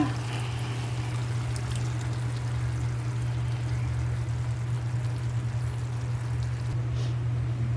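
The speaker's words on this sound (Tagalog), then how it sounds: "ilagay natin ang gata" Coconut milk poured into a warm frying pan makes a steady, soft liquid stream that runs continuously at low volume.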